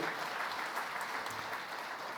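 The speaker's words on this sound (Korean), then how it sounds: "박수 한번 해주세요" A church congregation in the middle of a sermon gives a brief burst of dense, even applause, a steady wash of many hands clapping at a moderate distance with no voices above it.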